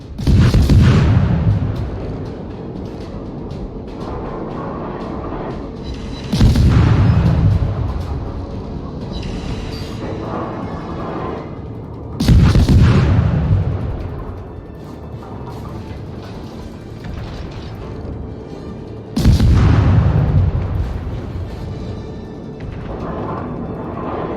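Heavy naval guns on a French Tier II destroyer, the Enseigne Gabolde, fire in World of Warships, four deep booming salvos spaced about six seconds apart, each ringing out and decaying over a steady rumbling background.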